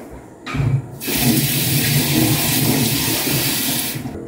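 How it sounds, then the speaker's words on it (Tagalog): Water rushes steadily from a tap into a pot for cooking eggs, a continuous close splashing fill that starts abruptly and runs for several seconds. "Ayan, tubig."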